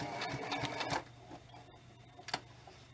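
Sewing machine runs a quick back stitch on a spirit doll, a rapid close ticking burst for about a second, then quieter stray clicks and a final short knock.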